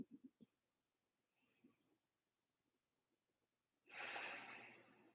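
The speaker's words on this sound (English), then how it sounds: "Nice deep breathing." Soft breaths and sniffs during a qigong exercise, followed by one long, fairly loud exhale near the end, close to the microphone in a quiet room.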